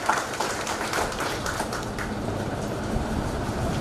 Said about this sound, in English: I request you all kindly welcome Advocate Nitin Shah with loud applause.